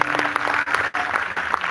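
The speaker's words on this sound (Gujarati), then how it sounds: "એમના માટે ખૂબ જોરદાર તાળીઓ" Applause from a live concert crowd in Jamnagar at a Gujarati song show, a dense steady clatter of many hands that briefly dips and then resumes at full strength.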